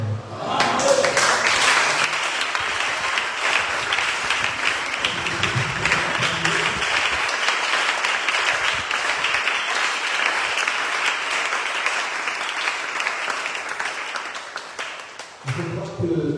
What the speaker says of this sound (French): Je crois que je ne suis pas digne d'acclamation.